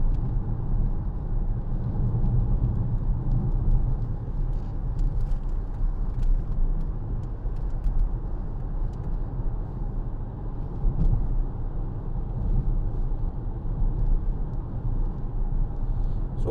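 A 2014 Vauxhall Insignia 2.0 CDTi SRi five-door diesel is driven on the road, giving a steady low engine and road rumble heard from inside the cabin throughout.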